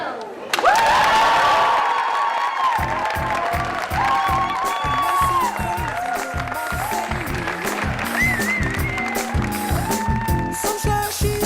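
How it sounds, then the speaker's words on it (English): Wedding guests cheer and applaud as the grooms appear, a loud, busy crowd with whoops and clapping while rhythmic music thumps underneath throughout. "Rousing applause for Mr. and Mr. Real"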